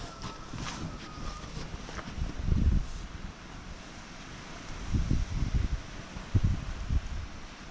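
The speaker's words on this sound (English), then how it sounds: "It's ridiculously windy." Strong blizzard wind at a market farm rushes steadily, with louder gusting bursts and rustling surges near the microphone and a constant roar beneath them.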